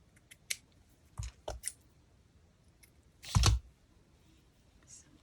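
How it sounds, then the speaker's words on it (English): Scissors cut a strip of fabric in a few separate snips, close and fairly quiet, with one longer heavier cut near the end and near silence between. "I'll just cut about that much"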